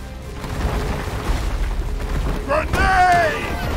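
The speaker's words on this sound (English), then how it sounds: "Grenade!" A grenade going off in the Deep Rock Galactic video game, with a loud booming burst amid chaotic combat noise and creature sounds, close and heavy toward the end.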